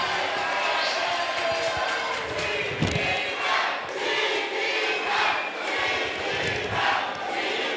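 A boxing crowd at a women's super flyweight bout for Angela "La Chiquita" Nolasco applauds and cheers steadily after the decision, a dense wash of clapping and voices that holds at an even level throughout.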